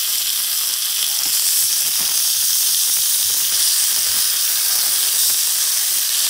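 Meat searing in a hot pan, a dense steady sizzle and hiss with faint crackles, close and continuous with no talking.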